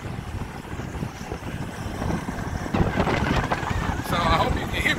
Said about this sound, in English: I hope you can hear me with the wind blowing like it is